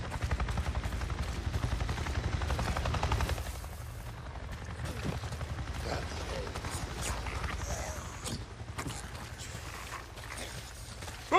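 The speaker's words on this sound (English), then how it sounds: "I just saw a goddamn chopper! A chopper?" Helicopter flying overhead in the Days Gone video game, a steady rhythmic rotor chop loudest at first and then easing, mixed with scattered bursts that could be gunfire, with a voice speaking partway through.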